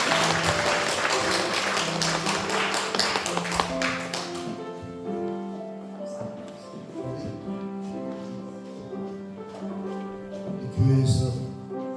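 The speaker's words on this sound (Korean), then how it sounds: "박수로 모십니다." A church congregation at an ordination and prayer-house director installation service claps warmly for several seconds, then the applause fades as sustained instrumental music with held tones takes over.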